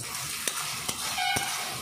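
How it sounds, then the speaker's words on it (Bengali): Chopped coconut fries in mustard oil as a steady, moderately quiet sizzle, with three brief scraping strokes of a spatula against the pan at roughly even intervals. "নারকেল কুচিগুলো দিয়ে ভালো করে ভেজে নেব"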